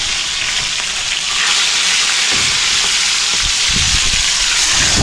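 Crabs fry in a hot pan with a loud, steady, dense sizzle, close up, broken by a few sharper crackles and stirring clatters partway through, with no talk.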